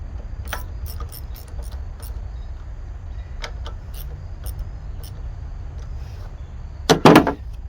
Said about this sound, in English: Grab our socket, tighten this up.